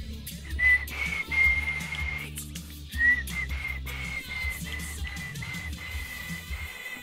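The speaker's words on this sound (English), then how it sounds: "Can't whistle for shit right now" A person whistles a few short, clear tones in a room, with a steady low-pitched hum from a game or music underneath; no talking.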